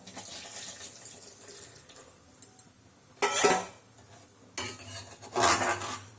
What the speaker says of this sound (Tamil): இப்போ நம்ம எடுத்து வச்ச தேங்காய் பால் ஊற்றிக்கலாம்